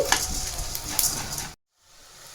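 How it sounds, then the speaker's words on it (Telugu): Coriander seeds and cumin dry-roasting in a pan give a close, crackling sizzle with light scraping for about a second and a half, then cut to near silence before a faint hiss returns. "సేమ్ బౌల్లో ధనియాలు కూడా వేసేసుకొని సేమ్ జస్ట్ ఒక 1 minute అలా రోస్ట్ చేసుకోవాలి"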